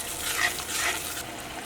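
Chilli beef sauce with fried beef heats in a pan, giving a soft, steady sizzle and light bubbling with no talking.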